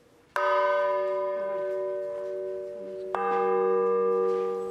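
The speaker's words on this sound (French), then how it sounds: "la cloche doit surtout chanter" A bell struck twice, each strike ringing out with a rich, sustained tone and shimmering overtones that linger until the next hit.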